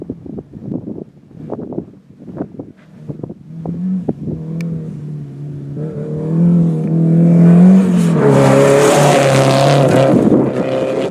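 A Peugeot 205 rally car on a rally stage in Playas, approaching with sputtering, popping engine bursts before building into a sustained rising roar as it passes close and loud, then dropping away.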